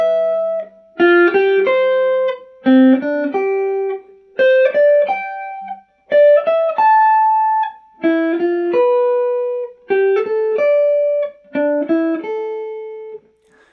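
Unaccompanied electric guitar solo with no backing track, short melodic phrases of bright single notes and quick runs, played in bursts separated by brief gaps, close and loud.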